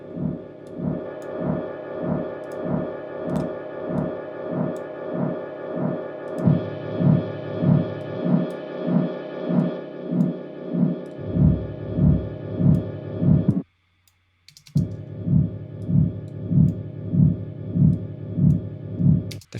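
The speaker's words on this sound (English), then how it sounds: "I'm hearing like an LFO kind of thing going on" A deep LFO-modulated synth drone throbs in a steady pulsing rhythm, briefly cutting out before resuming, with no voices.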